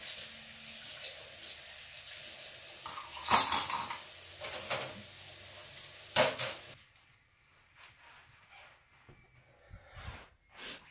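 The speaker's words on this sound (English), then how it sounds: "And I don't normally have this many dishes." Dishes, pots and pans being washed in a kitchen sink, with clattering clinks and knocks over running water, busiest early on and then settling into quieter, sparser handling.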